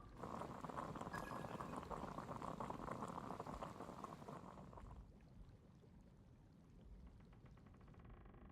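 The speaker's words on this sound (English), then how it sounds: "I'll boil some water." Water boils in the video game Genshin Impact with a dense, rolling bubbling that stays steady and close, then softens to a lighter simmer in the last few seconds.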